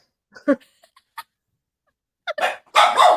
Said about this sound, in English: We got puppy barking.